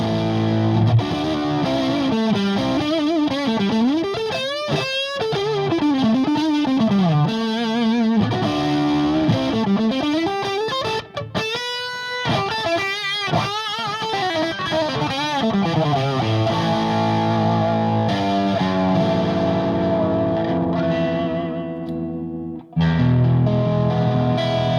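An electric guitar plays a melodic phrase through a Boss BD-2 Blues Driver overdrive pedal, giving a continuous, saturated, distorted tone with bending notes and sustained chords, loud and close with no voices.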